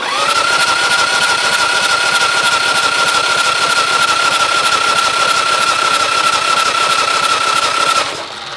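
A custom chopper motorcycle engine runs steadily at its first start, a loud, continuous rapid-firing idle with a sustained whine, close by and alone, dropping off abruptly near the end.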